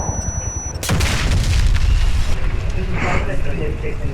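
A sudden loud bomb explosion in Warface booms after a short electronic beep, followed by a rumbling, crackling tail and scattered debris noise.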